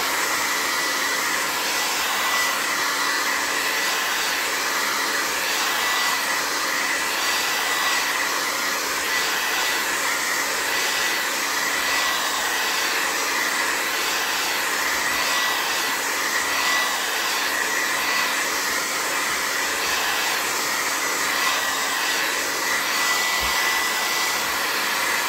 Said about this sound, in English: Maybe I'll give it a quick blow dry